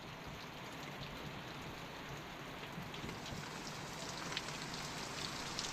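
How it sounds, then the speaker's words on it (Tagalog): Heavy rain pours down steadily, a dense, even hiss of drops striking surfaces nearby, with no voices, holding at the same strength throughout. "Malakas na yung ulan na yan eh."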